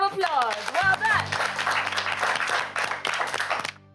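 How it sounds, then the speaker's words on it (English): A studio audience at an educational quiz show claps in a dense burst of applause under a voice and brief music, the clapping running steadily until a sudden cut near the end. "Let's give them all a big round of applause."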